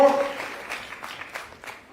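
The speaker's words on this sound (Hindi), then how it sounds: "एक बार ताली बनती है इनके लिए, जोरदार ताली" An audience claps for a speaker at a Women's Day function, with a brief burst of applause that fades over about two seconds.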